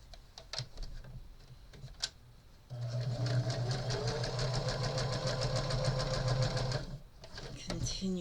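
A sewing machine stitching quilt fabric runs in a steady, fast mechanical whir for about four seconds, close and clear, after a few quiet clicks and fabric handling at the start.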